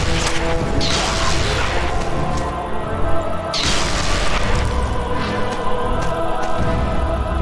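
Fire blast spells roar in Enclave gameplay, two loud whooshing bursts over a dense, continuous rumble of game combat noise.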